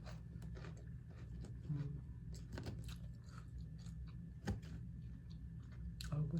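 Someone eats a crunchy salmon salad up close, with steady wet chewing and crisp crunching bites repeating over several seconds.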